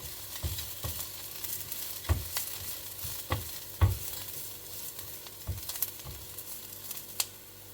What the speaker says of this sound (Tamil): கருவேப்பிலை போடுவோம்.